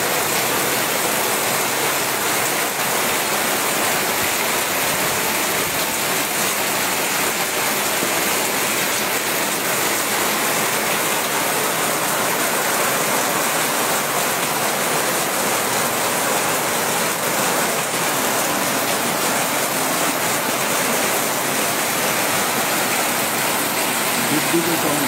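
Heavy downpour of rain pours down steadily in Deganga, a loud, dense, unbroken hiss that holds constant throughout.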